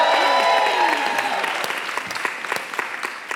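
A crowded audience at a New York parks talk bursts into loud applause, a dense wash of clapping that gradually thins into scattered individual claps.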